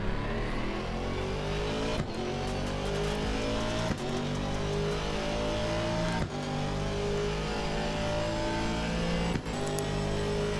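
An Aston Martin race car in a racing video game laps the Kyalami circuit, its engine droning loudly and continuously with rising revs broken by brief dips at each of several quick gear shifts.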